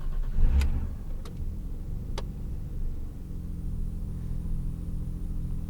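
A 1989 BMW E30 325i M-Technic starts up, with a few sharp clicks, then a low, steady engine rumble that settles into an even idle close by.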